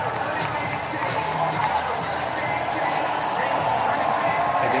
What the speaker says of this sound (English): I guess the crowd was loud enough.